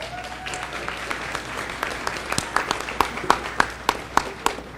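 Supporters at a board of education meeting applaud and cheer for an honoree, a soft spread of clapping that grows into sharper, louder individual claps toward the end.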